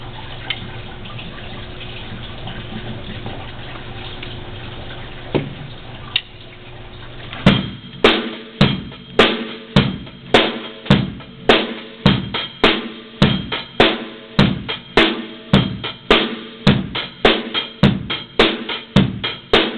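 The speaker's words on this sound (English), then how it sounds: "what you heard there was a basic 8-note groove" A basic eighth-note groove plays as a steady run of sharp, evenly spaced percussive hits, entering after a stretch of washy background sound and continuing loud and regular to the end.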